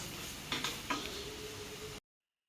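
Tomatoes sautéing in a pan with salt and turmeric for a black kavuni rice biryani, a soft, steady sizzle with a couple of brief stirring scrapes, close and quiet, with no talk.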